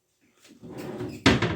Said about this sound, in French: Puis il y a plein de tiroirs.